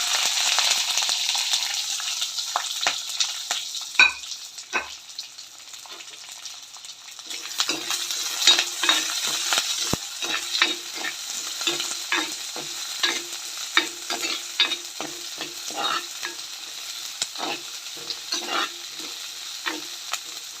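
Bird's eye chillies, chopped shallots and curry leaves fry in hot oil for a Kerala fish curry, giving a loud continuous sizzle broken by frequent scraping stirs of a spoon against the pan, with no talking.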